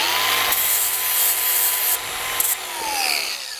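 A flap wheel on a grinder rounds off metal edges during exhaust work on an old Saab 95, giving a loud continuous rasping grind with whining pitch shifts and brief bursts of harder contact.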